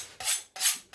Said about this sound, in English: Hold on, just let me sharpen the knife.